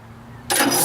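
A 1946 John Deere AR tractor engine cranks over. After a quiet stretch, a loud, dense burst of starter and engine noise cuts in abruptly halfway through and holds steady, close by.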